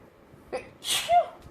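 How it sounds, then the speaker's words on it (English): A person sneezes once, close by and fairly loud, with a brief sharp intake of breath and then a burst of air, heard alone in a quiet room. "that was a sneeze"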